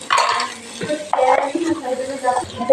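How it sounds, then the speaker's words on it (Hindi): Chicken fried with spices in a pot makes a soft sizzle beneath repeated scraping and clanking of a spoon against the metal, with a faint voice in the background. "ये चिकन को हम भून लेंगे अच्छी तरह मसालों के साथ।"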